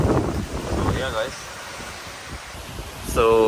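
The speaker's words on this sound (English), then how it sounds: "it's windy outside because, you know, if you're in Florida, we got a hurricane right now" Strong gusting wind during a Florida hurricane buffets the microphone outdoors, a loud, rough rumble under a voice at the start and end of the clip.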